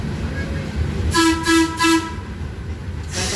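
A train horn sounds three evenly spaced toots as a reverse signal on a train ride, loud over the running rumble of the train, followed by a softer tone.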